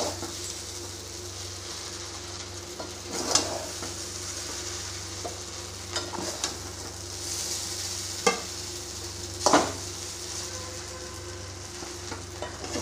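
Vegetarian chow mein made without onion or egg sizzles steadily in a hot pan, with a spatula scraping and stirring in several separate strokes against the constant frying hiss.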